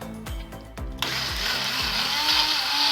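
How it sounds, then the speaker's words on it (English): A stick blender whirs through butternut squash soup, starting with a few short stuttering pulses before settling into a continuous loud buzzing grind with a slurping edge. "I'm just going to blend it using a stick blender"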